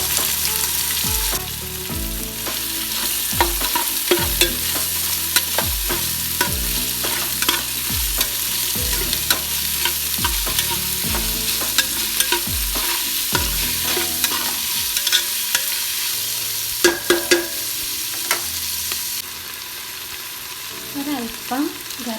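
Two cut onions fry in a pan for a beef perattu, stirred with repeated utensil scrapes and knocks over a steady close sizzle throughout, with no talking.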